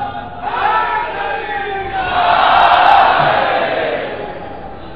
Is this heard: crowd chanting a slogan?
yes